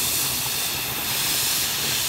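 Steam hissing steadily onto yarn wound on a wooden niddy noddy, a loud continuous close-up jet of hiss with no talking.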